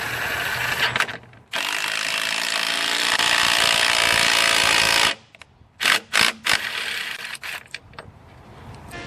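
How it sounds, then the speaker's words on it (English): Impact driver tightening bolts into a wooden torii gate prop, heard as a long sustained burst of loud rattling hammering, then a pause and several short, sharp bursts of driving close by. "I just finished using the impact and getting those all locked in there"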